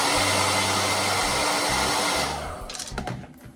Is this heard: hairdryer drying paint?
yes